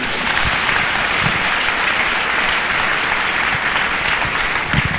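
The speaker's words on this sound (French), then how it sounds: "Acclamons la parole de Dieu." A church congregation applauds in a loud, sustained burst of clapping that fills the whole stretch without a pause, with no speech over it.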